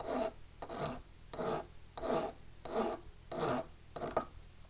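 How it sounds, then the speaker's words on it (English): A relatively fine file rasps over the points of a pair of dividers in slow, steady light strokes, about seven in a row, fairly quiet and close. "I'm rotating this with my left hand while I'm taking light strokes with my right. Relatively fine file."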